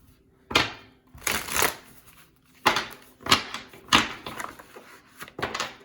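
Stiff tarot cards riffle and slap together in several bursts, close up, with short pauses between shuffles and no talking.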